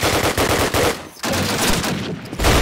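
Rapid automatic gunfire in a Call of Duty match, loud close bursts of shots with a short pause before firing resumes.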